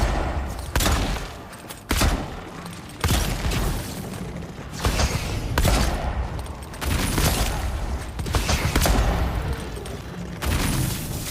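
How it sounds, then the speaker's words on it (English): Repeated gunfire from missed shots in the fantasy action game Avowed, with a dozen or so loud, sharp bursts at irregular intervals over a steady bed of game ambience, some shots rattling in quick succession. "That's just me missing all my shots."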